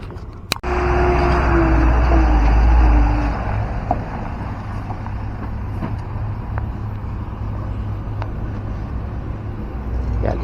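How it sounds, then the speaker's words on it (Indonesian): Trucks and other traffic roll past on a road near the Padang–Sicincin toll construction in West Sumatra, a loud close heavy-vehicle roar after a sharp knock, easing into a steady continuous traffic rumble. "cukup banyak sekali kendaraan truk kawasan ini"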